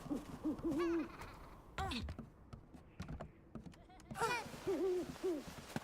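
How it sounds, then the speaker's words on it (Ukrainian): Owl in the game Never Alone giving repeated falling hoots in short clusters, mixed with keyboard clicks and a voice talking over it. "О, сова, сова."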